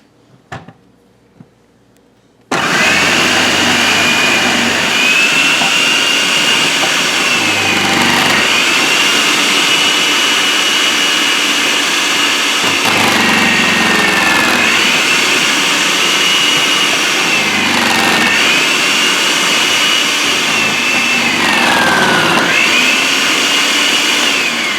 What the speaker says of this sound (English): So today I'm going to shred this zucchini so I can get started on a recipe.